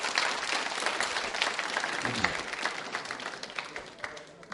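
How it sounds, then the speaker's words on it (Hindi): Loud applause from an audience at a school quiz show, dense steady clapping throughout with a faint voice briefly underneath. "जानकारी के लिए तालियां बजाइए आप जोरदार तरीके से।"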